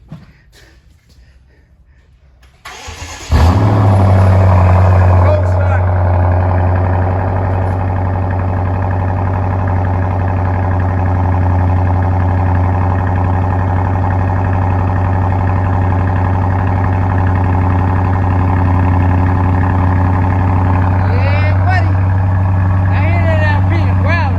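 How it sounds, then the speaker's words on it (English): After a quiet moment, a BMW Alpina B6 engine turns over and catches, then settles into a loud, steady, throaty idle that rumbles on without letup. "He gonna start it up, let y'all hear it, man."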